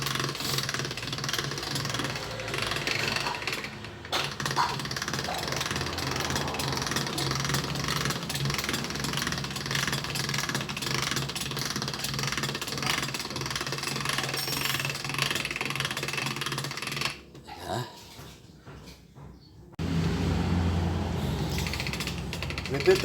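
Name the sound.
handmade biscuit-making machine running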